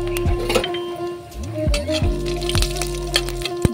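Panch phoron and dried red chillies crackle in hot white oil for a pickle, a close sizzle broken by a few sharp pops and light clinks of a utensil against the pan.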